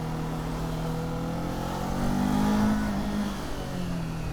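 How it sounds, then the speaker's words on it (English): A 2023 Kawasaki Z400 motorcycle engine pulls hard while accelerating in second gear, a close, steady drone that swells in pitch and loudness midway before easing slightly, with wind noise underneath. "you've got this teeny tiny motorcycle with a load of power"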